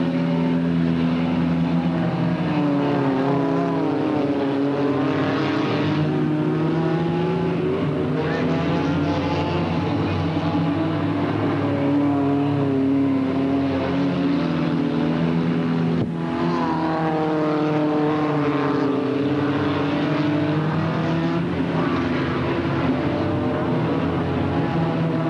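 Race cars at Delta Speedway roar past the flag stand on a 1996 race night, a loud continuous engine drone swelling and fading as cars pass, with a voice talking over it.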